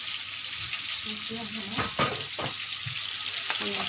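Chopped onions frying in hot oil give a steady, close sizzle, broken by a few sharp stirring scrapes and clatters in the middle.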